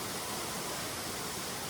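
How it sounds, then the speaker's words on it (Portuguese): A park waterfall within an urban area pours as a steady, even rush of falling water, constant and fairly soft with no other sounds breaking through. "você escuta o som da cachoeira"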